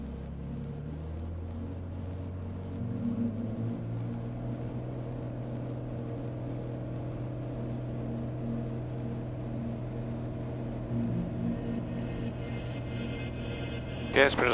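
Cirrus light aircraft holding on runway 18 before takeoff, engine set full rich, producing a steady low droning hum throughout with a brief rise near the end, while a voice talks over it.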